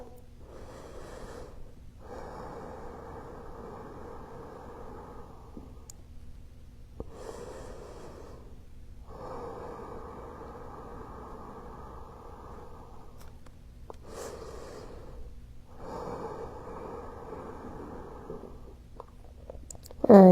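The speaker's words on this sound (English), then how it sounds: "Three more breaths." Slow, deep breaths from a person cooling down at the end of a bodyweight bootcamp workout: three long, soft inhale-exhale cycles, each lasting several seconds with quiet pauses between them, close and faint.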